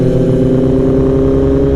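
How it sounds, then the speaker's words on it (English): A 2015 Kawasaki ZX10R motorcycle with a loud aftermarket exhaust drones steadily up close, a deep, continuous engine roar that holds level throughout with no talk over it. "This bike with Kaibo's exhaust is very loud, yeah, very loud. This is a 2015 ZX10R."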